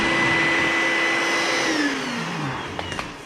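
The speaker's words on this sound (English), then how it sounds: "Where's my vacuum?" Vacuum cleaner with a 20-foot pull hose running steadily and loudly, a continuous motor whine with a falling pitch sweep midway, heard alone in a basement.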